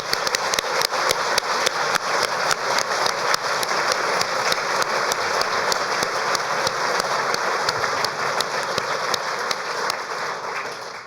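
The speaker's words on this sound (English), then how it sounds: "A big round of applause to everyone." The audience at the 2019 RIBA President's Medals architecture awards ceremony gives a long, even round of many-handed applause that stays steady and close before easing off at the very end.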